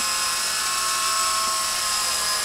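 A small Novus 125 CP collective-pitch RC helicopter hovers nearby, its rotor and motor giving a steady, high, whining drone that holds without a break.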